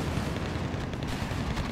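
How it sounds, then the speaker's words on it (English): Mortar fire in a strategy video game rumbles as a dense wash of distant booms and crackling blasts, steady and muffled over a short stretch. "Now we have more mortar coming down."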